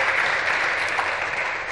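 A brief, dense burst of audience applause at an open talk with filmmaker Pedro Costa, steady and fairly loud throughout.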